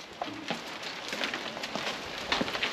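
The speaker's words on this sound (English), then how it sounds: "Oh, it's hailing." Hail falls outdoors in scattered sharp taps and ticks over a steady hiss of rain, irregular and moderately close, with no voices.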